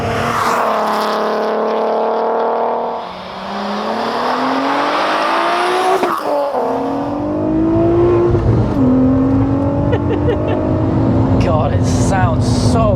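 A supercharged 406 bhp VW Golf R32 Mk4 revs loud and close, its note climbing and falling through sweeping pitch changes and rising to a high whine at the top, with a voice talking over it.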